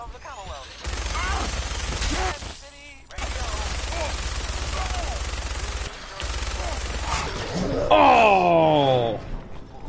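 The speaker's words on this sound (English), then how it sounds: "Load up on the minigun." A minigun in Fallout 4 fires long sustained bursts of rapid, loud rounds with brief pauses between them, ending with a spinning whine, while a voice groans at times.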